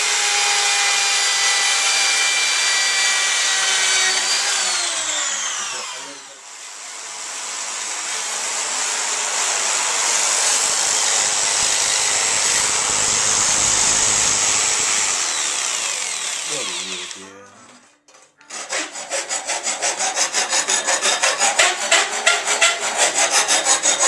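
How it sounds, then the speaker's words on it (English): Hand file rasping on a metal number plate bracket to size two drilled holes: long, steady scraping strokes, then a brief pause, then faster rhythmic filing strokes close by. "we've put the two holes in now, we've got them nicely filed out to size"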